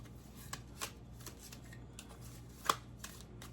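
Tarot cards being shuffled by hand, a quiet run of soft riffling flicks with one sharper snap near the end, close and alone over a faint background hum.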